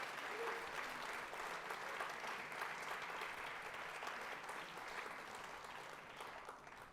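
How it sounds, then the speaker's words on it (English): Festival audience applauding after a music performance, a dense steady wash of clapping that holds for several seconds and slowly thins toward the end, heard from within the crowd. "Please give another round of applause."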